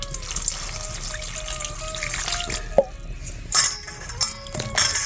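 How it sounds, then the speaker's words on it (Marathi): Water trickles and drips steadily into a vessel over cut brinjals, with a few louder splashes and clinks toward the end. "आता मी त्याला पाणी टाकी ते भिजायला"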